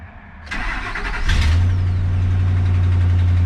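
A Ford Maverick with a large exhaust leak cranks briefly and fires up, settling at once into a loud, steady idle with a strong low rumble, recorded close by.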